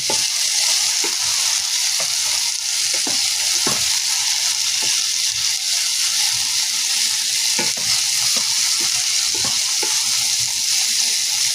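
Tomatoes sautéing in a pan for meatless string beans, a steady close sizzle of frying with scattered stirring clicks and scrapes throughout, no voices.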